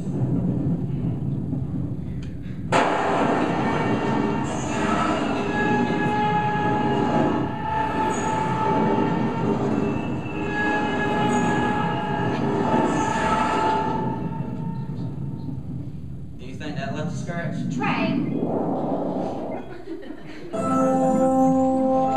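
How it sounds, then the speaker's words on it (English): Train rumbling steadily for over twenty seconds as a sound effect in a church skit, with squealing wheels and a brief horn-like tone near the end, loud and alone without talk. "Train."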